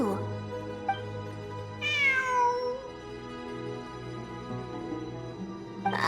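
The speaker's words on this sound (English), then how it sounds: "I'm not hearing things. It really is a cat." A cat gives one clear, drawn-out meow with a falling pitch, fairly close, over a low steady background hum, with faint brief sounds before and after it.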